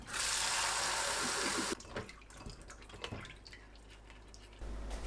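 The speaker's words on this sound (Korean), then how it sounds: "깨끗한 물이 나올 때까지 여러 번 헹궈내세요" Jujubes being rinsed under a running kitchen tap while preparing ssamjang: a loud, steady gush of water for about two seconds, then quieter splashing, dripping and handling of the fruit, with the tap gushing again near the end.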